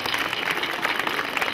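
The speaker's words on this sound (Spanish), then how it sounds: "Para él les pido un fuerte aplauso y son tan amables." Audience at a school event applauding, a steady wash of clapping from a crowd heard throughout the short stretch.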